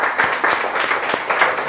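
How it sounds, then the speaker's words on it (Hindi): A church congregation applauds together, a dense, steady patter of many hands clapping at close range for under two seconds with no talk over it. "परमेश्वर के लिए तालियां बजाएंगे"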